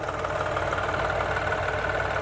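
A tractor engine idles nearby on a maize silage pile, with a steady, low knocking rumble that holds evenly throughout.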